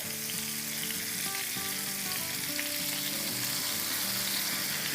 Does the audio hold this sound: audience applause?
no